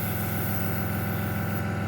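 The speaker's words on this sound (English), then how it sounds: "you can fine spray with it" A Chinese-made copy of an Iwata airbrush spraying paint, a steady close, loud hiss with constant airflow and a faint underlying compressor-like hum throughout.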